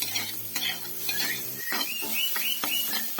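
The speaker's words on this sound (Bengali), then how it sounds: "এর মধ্যে আমি দিয়ে দেবো অল্প একটু হলুদ গুঁড়ো দিয়ে এটিকে ভালোভাবে নাড়াচাড়া করে নেবো" Mixed winter vegetables dusted with turmeric are stirred in a pan, with a spatula scraping and clinking repeatedly against the metal over a soft sizzle of oil.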